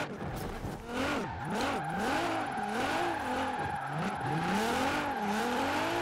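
Infiniti Q50 built into a 1,000 hp drift car in Forza Horizon 4, climbing uphill at Needle Climb: a loud, continuous engine note rising and falling through revs and gear changes, with tire squeal throughout.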